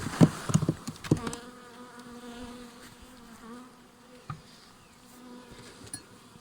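Dense, steady buzzing of many honey bees close by on hive frames, with a few sharp knocks and taps near the start and one later.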